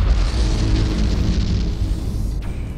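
A space station explodes in the Battlefleet Gothic: Armada 2 strategy game, a loud, deep, rumbling blast that holds for nearly three seconds and fades slightly, with no speech.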